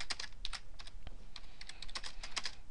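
Rapid computer keyboard keystrokes entering an Excel shortcut, Control Shift Tilde: a quick run of crisp, close clicks and taps with no voices.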